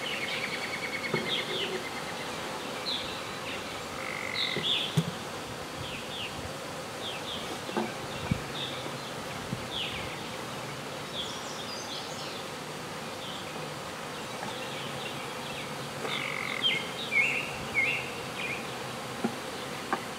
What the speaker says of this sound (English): I got a bee coming around me